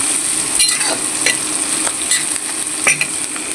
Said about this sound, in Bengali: পাটের শাক আমি রান্না করবো, তেলে ফেলবো